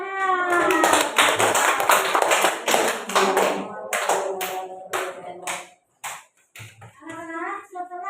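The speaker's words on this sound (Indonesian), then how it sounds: "Ya, tepuk tangan." A class of children clapping their hands together in a burst of quick, dense claps that continues for several seconds, then trails off into a few scattered claps.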